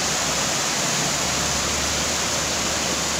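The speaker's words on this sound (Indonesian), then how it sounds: "Ini aliran airnya nanti menuju sungai Asahan, yaitu sungai Bedeng juga." Stream water in the Bedeng nature area flows toward the Asahan river, producing a constant loud broadband rush with no pauses or voices.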